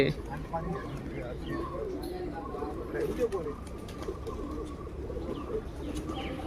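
Pigeons coo softly among other birds at Allalasandra Lake Park in Yelahanka, Bangalore, with scattered chirps over a low outdoor hum and a person talking.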